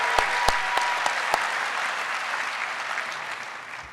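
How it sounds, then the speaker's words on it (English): Audience applause at a Moose Lodge convention session, beginning with a few sharp claps and settling into a steady, moderately distant round of clapping from a crowd. "give them a big hand of applause"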